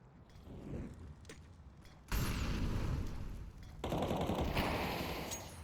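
Gunfire sprays through walls in a Counter-Strike match on Overpass, rapid automatic bursts that start faint and then grow loud, with two heavy volleys.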